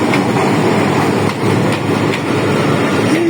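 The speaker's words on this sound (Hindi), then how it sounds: "ये आ रही है जनाब 48 डाउन रहमान बाबा एक्सप्रेस" The 48 Down Rehman Baba Express, a Pakistan Railways train running between Peshawar and Karachi and hauled by a PH locomotive, passes close by with a loud, steady rumble of wheels on rails and faint rhythmic clatter. No one speaks.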